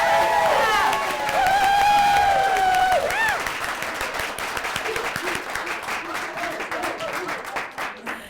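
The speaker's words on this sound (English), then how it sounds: "let's see if you can give me a round of applause that would meet the criteria for the You've Got It column" Audience round of applause in a teaching workshop, with cheering and whooping voices over the clapping at first, then steady rhythmic clapping that continues to the end.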